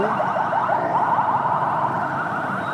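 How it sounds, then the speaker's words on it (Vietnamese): An ambulance siren wails in a repeating rising and falling pattern on a busy Saigon street near Binh Tay market, loud and steady against traffic noise. "Rồi xe cứu thương."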